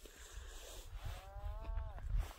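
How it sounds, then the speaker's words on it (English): Cattle moo once in a drawn-out low call, somewhat distant, across an open riverside pasture in Lesotho, with wind and faint background rumble around it. "The cattle have been out all day"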